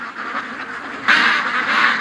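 Ducks by a lake quack nearby, softer at first, then a sudden louder burst of several overlapping quacks that carries on to the end.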